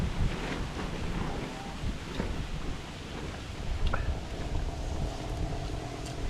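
Gusty wind buffets the microphone in uneven bursts, with a rushing roar and faint water sounds in the background.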